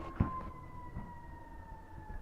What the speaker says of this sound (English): Helicopters outside, ambulances driving by.